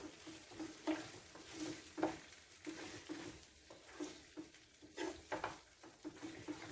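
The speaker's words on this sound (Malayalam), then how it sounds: "നല്ലതുപോലെ മിക്സ് ചെയ്ത് കൊടുക്കാം." Pumpkin and plantain erissery being stirred in a pan, soft scraping and thick mushy stirring strokes in a slow irregular rhythm, close but quiet, with no talking.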